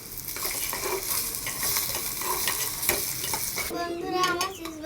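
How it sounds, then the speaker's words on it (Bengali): Food stirred in a frying pan, with a busy sizzle and repeated scraping strokes of the utensil. The sizzle drops away near the end, leaving a few lighter clinks. "এবার আমি নাড়বো শুধু।"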